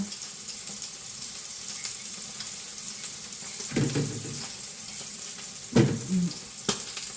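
Food fries in a pan with a steady sizzle, broken by a few louder clatters and stirring sounds toward the end.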